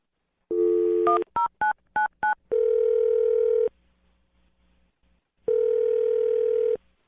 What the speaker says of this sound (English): I'll dial the phone number right now